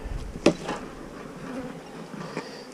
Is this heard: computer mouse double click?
no